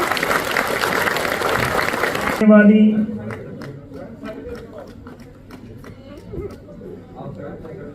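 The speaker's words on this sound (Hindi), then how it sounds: "जोरदार तालियां।" Loud applause from an audience at a school award ceremony for Hindi, a dense steady clapping that cuts off abruptly after a couple of seconds, followed by a speaker talking over a quiet hall.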